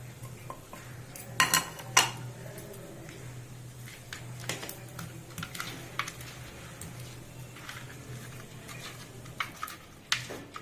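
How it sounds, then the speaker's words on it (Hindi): Fish pieces are mixed by hand with salt, turmeric and garlic in a metal bowl, giving soft squelching stirs and a few sharp clinks of the bowl, fairly quiet and close. "अब एमे ई कनिक नून हरद आ लहसुन मिला रहल छी"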